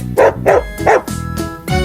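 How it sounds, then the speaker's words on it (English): A dog barks four times in a quick, loud run, alone with no talking, set among a children's alphabet song. "is for dog,"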